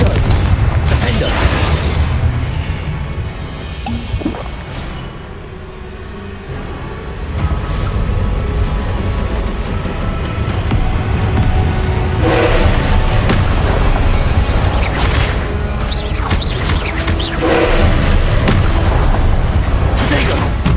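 Confringo blasting spells explode repeatedly during a duel in the Hogwarts Legacy video game, loud booming bursts recurring throughout amid spell-casting voices and battle noise.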